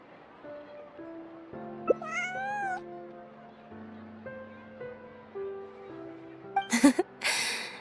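A cat meows in Genshin Impact, a rising, wavering call rising over soft game music, followed later by a brief burst of breathy noise.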